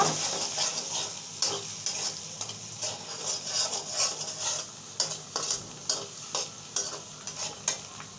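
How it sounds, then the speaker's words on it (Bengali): Egg frying in a pan for noodles gets stirred with a spatula, giving repeated rhythmic scraping strokes over a constant close sizzle. "এখন ভালো করে নেড়ে চেড়ে ভাজা ভাজা করে নেব"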